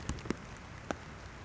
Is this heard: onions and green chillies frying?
no